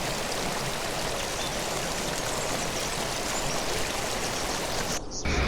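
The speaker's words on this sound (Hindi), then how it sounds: "भाई पानी का क्या बहाव है देखो।" A rushing glacier meltwater stream in the summer mountains roars as a steady, close wash of flowing water with no pauses.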